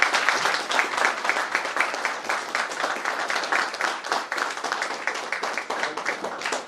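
Audience at a breakfast talk giving a sustained round of applause, dense steady clapping from many hands, fairly close, with no speech over it.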